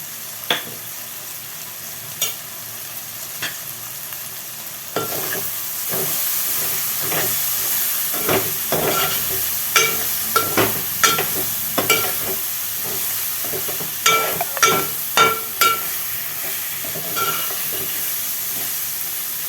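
Oil sizzles in a pan with a teaspoon of turmeric for a prawn and broad bean curry, giving a steady hiss broken by repeated scraping stirs of a spoon against the pan.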